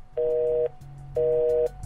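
Telephone tone heard after a reporter hangs up partway through a call: two identical steady beeps, each about half a second, separated by a short gap, loud and clear with no talk.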